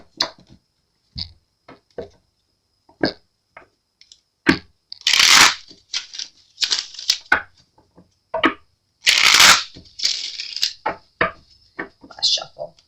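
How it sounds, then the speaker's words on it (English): A deck of tarot cards being shuffled close up, with crisp riffling bursts and scattered taps and clicks in an irregular rhythm. "As soon as I shuffle these cards."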